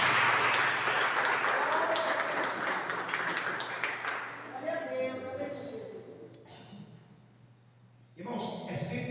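Church congregation clapping, a dense burst of applause that fills the first few seconds, then thins into scattered claps beneath a lingering organ-like tone before a brief swell near the end.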